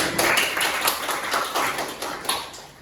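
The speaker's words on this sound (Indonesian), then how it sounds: "Tepuk tangan." A classroom group claps hands together in a sustained round of applause, a dense steady patter of many overlapping claps lasting the whole stretch, fairly close and moderately loud, with no talking over it.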